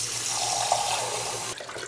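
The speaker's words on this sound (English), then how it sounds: "And then 4 cups of water is what we're gonna do." Tap water runs steadily into a soup pot with broth for homemade broccoli cheese soup, a continuous close splashing pour that cuts off near the end, with no talking.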